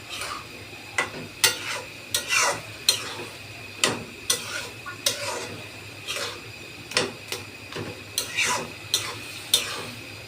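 Food being stirred while it fries in a pan, repeated scraping strokes at an irregular pace over a constant soft sizzle, close up with no talking.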